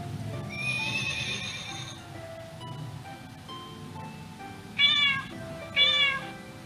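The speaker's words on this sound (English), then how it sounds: "Horse." A horse neighs in a children's lesson on everyday sounds: a long, bright whinny near the start, then two shorter, loud neighs close together toward the end, heard alone without talk.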